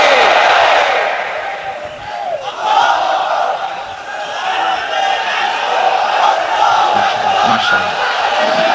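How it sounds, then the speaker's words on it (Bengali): A large crowd at a religious gathering shouting the takbir together in response, a loud, sustained roar of many voices rising and falling in waves across the whole stretch. "তাকবীর পড়ুন, লিল্লাহি তাকবীর।"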